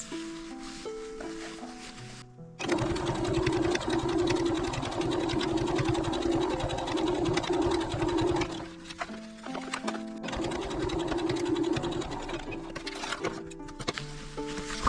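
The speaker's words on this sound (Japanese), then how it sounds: "ここ端ミシンかけます。" A sewing machine runs steadily while edge-stitching a zipper pouch, a close, continuous rapid whirring and needle clatter in two long runs, separated by a brief pause.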